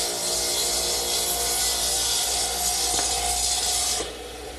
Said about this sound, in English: I'm just going to slide my jig to the other side of the saw blade and make the other cut